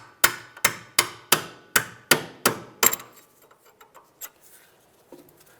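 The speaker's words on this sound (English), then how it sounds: "So I'm going to grab a Phillips screwdriver just to drive this bolt out." Seven quick, evenly spaced metallic hammer strikes drive a bolt out of a 2003-2011 Honda Element rear upper control arm using a Phillips screwdriver as a punch, followed by quieter scattered clinks and handling noises.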